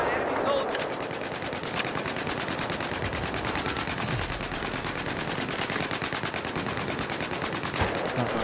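Sustained rapid machine-gun bursts and gunshots from the video game Battlefield 4, a dense continuous rattle with a few louder individual shots standing out, heard close and steady throughout.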